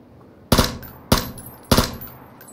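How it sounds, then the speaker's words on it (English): Gunfire in PUBG, three loud sharp shots spaced about half a second apart, each with a short decaying tail, no talking over them. "Seven shots."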